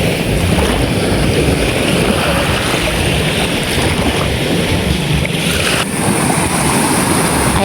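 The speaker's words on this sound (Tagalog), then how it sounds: "At medyo ano po yung alo ng dagat ngayon. Medyo may konting laki." Slightly rough sea waves wash steadily close by while fishing boats head out, a continuous broad rush of surf and wind buffeting with no talking.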